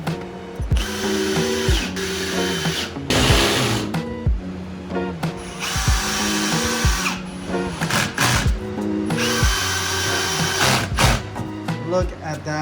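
A power drill drives self-tapping screws to mount a car's rear diffuser, giving loud, close whirring bursts that start and stop repeatedly, with rising pitch sweeps between short pauses.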